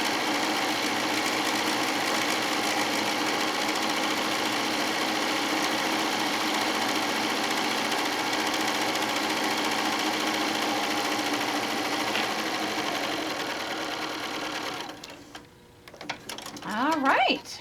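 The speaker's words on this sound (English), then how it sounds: "we'll finish it off with the decorative top stitch on the other side." A sewing machine runs steadily for about fifteen seconds, laying a decorative top stitch along a tote bag panel, then stops as a voice begins to speak.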